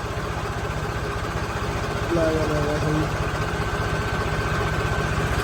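A Swaraj 855 tractor engine idles with a steady low throbbing rumble close by, while a voice talks briefly over it.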